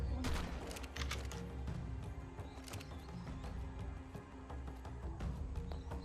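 Shotgun fire in the survival game ARK, a run of sharp, close blasts scattered through a busy, rumbling game soundscape, some bursts bunched tightly together.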